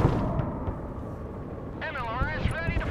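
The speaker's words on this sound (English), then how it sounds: "Barrage is starting." Artillery barrage in the Broken Arrow military strategy game: a dense, continuous rumble of distant shelling and blasts, with wavering voice-like tones rising over it near the end.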